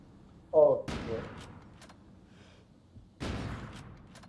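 Gunshots ring out in Call of Duty: Ghosts: two sharp, loud reports separated by a few seconds, each with a short echoing tail, over quiet game ambience.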